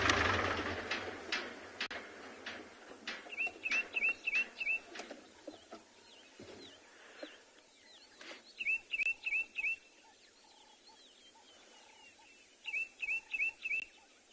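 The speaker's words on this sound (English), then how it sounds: "Beautiful call over here, sharp notes. That is of the ashy tit." Bursts of sharp, high, rapid notes from an ashy tit, repeated in three short volleys with pauses between, over quiet background sounds.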